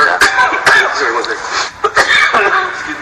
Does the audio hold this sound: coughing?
yes